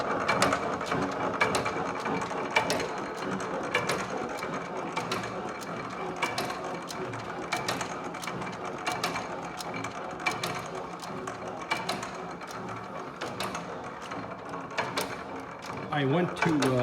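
A Hercules stationary engine runs close by, its magneto trip snapping back and firing in a steady, evenly spaced train of sharp mechanical clicks and knocks over a continuous clattering chug.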